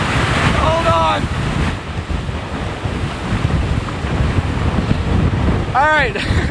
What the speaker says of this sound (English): Wow, that was a heck of a gust.